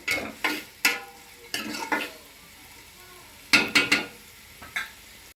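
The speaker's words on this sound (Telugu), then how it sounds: "ఉల్లిపాయలు వేసారు ఒక ఫైవ్ ఉల్లిపాయలు సిక్స్ పచ్చిమిరకాయలు" Sliced onions and green chillies fry in hot oil in a pan for a crab curry, with a soft sizzle under repeated close spatula scrapes and stirring knocks.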